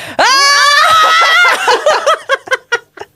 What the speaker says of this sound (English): But should we do a scream? Yes, right, let's do a scream.